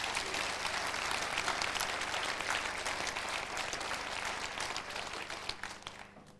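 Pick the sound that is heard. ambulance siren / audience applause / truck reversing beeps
audience applause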